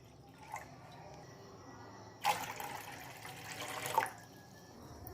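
Water pours from a glass into a pan for a kadha of ginger and herbs in two short, faint splashing bursts with quiet gaps, and no talk.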